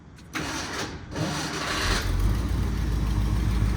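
A vehicle engine with a slight fuel leak cranks and catches, then settles into a loud, steady running rumble close by.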